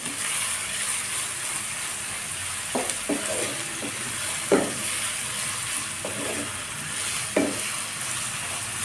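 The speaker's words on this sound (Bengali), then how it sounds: "আমি আলুটা ভালোভাবে ভেজে নিয়েছি" Potatoes fry in a pan with a constant, close sizzle, broken by a few short scraping and clattering stirs of a spatula.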